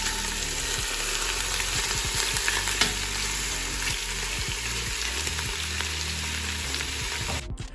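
Pork spare ribs brown in a pan over medium heat, giving a loud, steady sizzle and frying crackle that runs unbroken for the whole stretch, with no voices.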